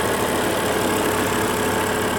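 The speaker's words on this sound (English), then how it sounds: "do have the 5-liter 40 valve 500 horsepower BMW V10" A 2006 BMW M5's 5-liter, 40-valve, 500-horsepower V10 idles steadily and loudly up close, an even, continuous engine rumble with no other sounds.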